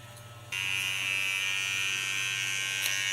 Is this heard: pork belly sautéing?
no